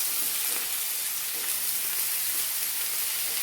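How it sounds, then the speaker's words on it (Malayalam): Garlic, green chilli and ginger sautéing in a pan for cauliflower masala curry give a steady, bright sizzle with a soft hiss, continuous and close, no voices. "ഇതൊന്ന് വഴറ്റി കൊടുക്കാം."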